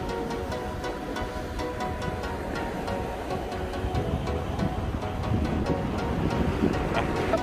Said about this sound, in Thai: คลื่นใหญ่น่ากลัวมาก